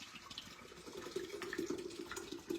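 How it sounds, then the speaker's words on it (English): Fresh apple and cucumber juice pours steadily into a pitcher, a continuous close liquid stream with light splashing, moderately loud and alone, without speech. "what I'm going to do is pour this into my pitcher."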